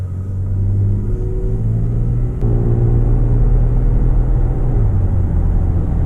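A Toyota Tacoma truck with a KDMAX tune accelerates from 0 to 60 in sport mode, its engine a loud, steady low rumble heard from inside the cab that rises gradually with no talk.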